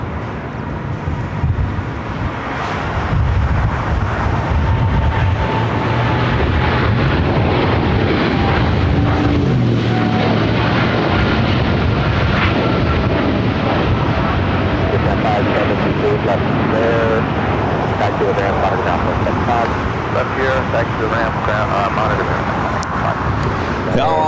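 A Boeing 787 Dreamliner at LAX airport gives a steady, loud broadband jet roar that builds after the first few seconds and holds throughout, with voices talking over it.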